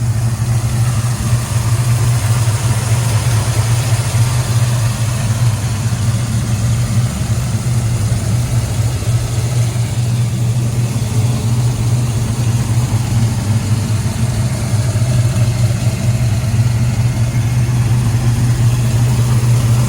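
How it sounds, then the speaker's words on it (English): A 1970 Dodge Charger with a 440 V8 idles up close, with a loud, steady, low rumble and an even throb that runs for about twenty seconds without talk. "All right, let's see how the engine sounds."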